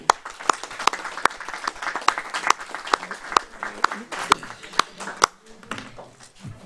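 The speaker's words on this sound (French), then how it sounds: "On peut applaudir Dominique" Applause at a municipal council meeting after a deputy mayor's election: a handful of people clapping in sharp, distinct claps, loosely rhythmic and fairly near, lasting throughout and trailing off at the end, with murmured voices underneath.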